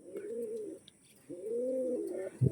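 A pair of Kaldoma pigeons, a female and a male, coo in two long, throaty, rolling phrases separated by a short pause, close by and with no talking.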